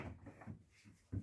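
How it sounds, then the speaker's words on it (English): A drawer on rollers in a 2022 Beko Harvest Fresh fridge freezer slides open at close range, giving a few soft rolling rumbles and light knocks over a bit more than a second. "the drawer is actually on some rollers"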